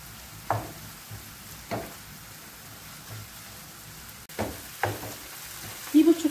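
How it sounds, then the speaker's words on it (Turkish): Onions frying in a pan on a wood-burning kitchen stove, a steady soft sizzle with a few louder scraping stirs spaced through it. "Şöyle bir soğanımı karıştırayım."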